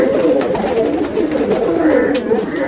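Kaldume pigeons coo steadily at close range in a loft in Vikroli, Mumbai, a continuous low murmuring over faint background voices.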